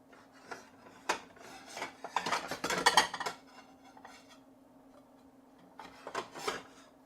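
A knife slices through chicken cordon bleu on a board, giving soft scraping and tapping cuts in irregular bursts, faint and close, with a quiet pause between two clusters of strokes and no talking.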